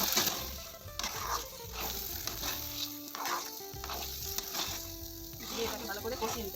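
Cumin, black cumin and fennel seeds sizzle in a hot pan for a jackfruit and prawn dhoka, a continuous close crackling hiss with occasional scraping stirs throughout.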